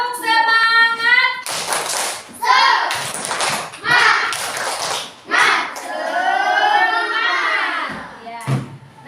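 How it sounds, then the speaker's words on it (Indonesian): Children's voices chanting in a classroom, joined by rhythmic group clapping and tapping in bursts, close and loud, with a teacher's voice also heard. "Tepuk semangat."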